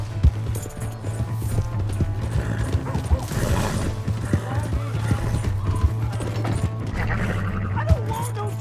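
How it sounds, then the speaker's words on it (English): Horse hooves clip-clop in a quick, uneven rhythm in Red Dead Redemption 2, with a steady low hum underneath and occasional knocks and whinnies. "Hey, that's my horse!"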